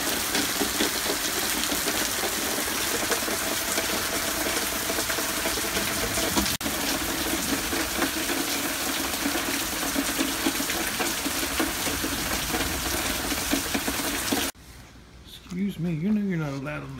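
Heavy rain pours during a thunderstorm as a steady, dense roar for about fourteen seconds, then cuts off abruptly, leaving a quieter stretch where a voice speaks.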